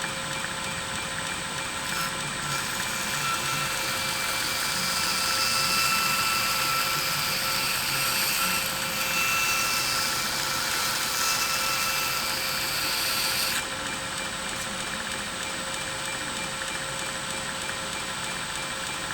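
A bench grinder runs with a steady high whine and dense broadband hiss while a knife edge is freehand ground on it, continuous and close throughout before the pitch drops slightly near the end, no talking.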